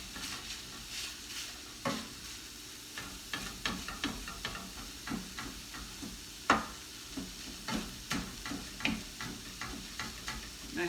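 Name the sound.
plant-based sausage and chopped parsley browning in a pan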